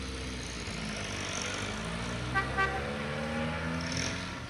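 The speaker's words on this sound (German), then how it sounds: "So, ich bin unterwegs mit dem Auto." Steady engine drone of a car driving in the online horse-riding game Star Stable Online, a continuous mid-level road rumble with a couple of brief horn-like toots near the middle.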